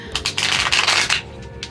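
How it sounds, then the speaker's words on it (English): A deck of cards being shuffled by hand, several quick riffling bursts close up and loud, stopping near the end with a few soft taps. "let me shuffle these a couple times"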